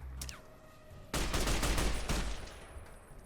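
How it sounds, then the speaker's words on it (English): An enemy fires missiles in the video game Fallout: New Vegas, a dense loud burst of blasts and crackling gunfire that erupts suddenly and rumbles on for a couple of seconds. "Okay, you're shooting missiles at me now."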